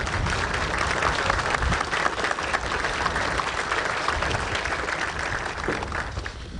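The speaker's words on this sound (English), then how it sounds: "Please join me in a round of applause for all of them." Sustained, steady applause from an audience honoring soldiers at an Army assumption of command ceremony, a dense and even wash of many hands clapping throughout.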